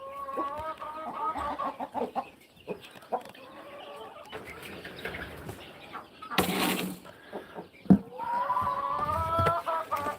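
About a dozen chickens cluck and call close by on a small farm, in repeated bursts with some louder squawks and a short rustle or flap of wings.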